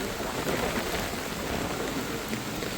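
Heavy monsoon rain pours down in Karjat, a dense, steady, close roar of water hitting surfaces with no clear breaks and no talk.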